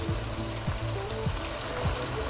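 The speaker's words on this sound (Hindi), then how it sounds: "आप उतना उसमें पानी ऐड कर दें" Water poured into apple gourd and meat curry (tinday gosht) in a pan, giving a steady splashing, sizzling flow with a few gurgling pulses, close and fairly loud, no talking.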